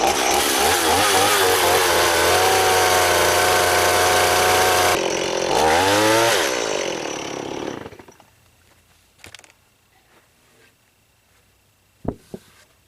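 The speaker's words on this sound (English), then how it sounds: "I'll go ahead and use a chainsaw and finish that notch" A chainsaw cutting a notch into a 12-by-12 timber log runs loud and steady for about six seconds, revs briefly again, then stops, leaving near silence broken by a few faint knocks and taps.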